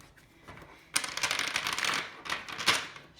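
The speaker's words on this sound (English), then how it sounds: "So I'm gonna give it a shuffle." A tarot card deck with slightly slippery cards gets shuffled up close. Rapid papery riffling comes in two bursts, separated by a brief pause, with no voices.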